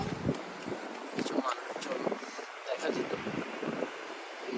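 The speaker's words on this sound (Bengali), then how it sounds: "আজকে বাতাস বাতাসের কারণে বড় বড় ঢেউ" Strong wind buffets the microphone at an Italian seaside beach while big waves surge in the background, a continuous roaring wash under a voice speaking throughout.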